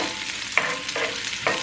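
Garlic and shallots sauté in a pan with a steady, close sizzle. Three sharp stirring scrapes break through it at regular intervals.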